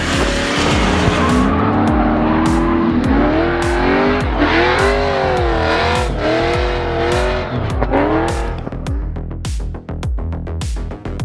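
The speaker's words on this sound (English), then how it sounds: "A first ever for the event was full course drifting with hot pit drift" Race cars drift through a full course at Buttonwillow with engines screaming and revving in rising, falling sweeps, loud and close, while tires squeal steadily over a dense roar that runs the whole way.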